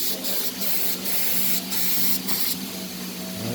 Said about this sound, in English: Right now, you hear that compressor running?